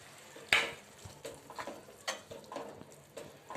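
Fenugreek seeds and cooked chana dal being sautéed and stirred in a pan, with soft intermittent scraping and clinking strokes over a low sizzle, close and fairly quiet.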